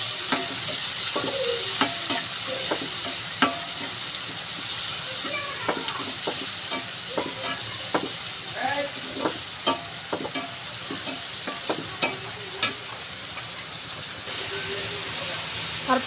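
Chopped tomato frying in a pan with pangas fish roe, a steady sizzle with repeated scraping of a spoon as it is stirred, some clinks along the way and a voice talking over it.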